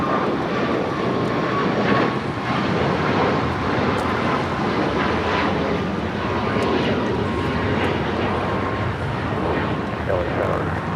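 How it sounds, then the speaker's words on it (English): A Cayman Airways Boeing 737 MAX 8 takes off at Los Angeles airport, its steady jet roar loud and sustained throughout with a broad, even rush. "Cayman Airways, 737 MAX 8, heading to Georgetown,"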